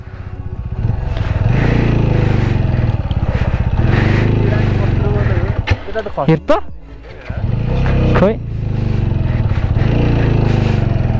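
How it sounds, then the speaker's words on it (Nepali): A heavily loaded motorcycle carrying two riders and luggage labours off-road on a rough trail, its engine droning loud and close with uneven surges and dips as it strains, while voices talk over it. "अब चाहिँ बाइकलाई जोर पर्न थाल्यो है"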